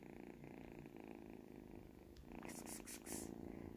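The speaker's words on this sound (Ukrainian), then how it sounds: "А мурчить так, любить вона мурчати." A tiny rescued kitten purrs in a steady, close rhythmic rumble that runs through the whole stretch, with a few brighter rustling bursts near the end.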